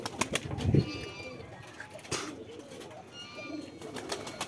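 Domestic pigeons in a breeding loft give soft low cooing calls with brief wing flaps during mating, a few bursts close by over a quiet background, with a faint voice now and then.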